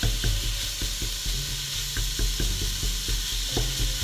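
Minced meat and shallots frying for a bolognese sauce, a loud steady sizzle broken by repeated scraping knocks of a spatula chopping and stirring in the pan, up close and without speech.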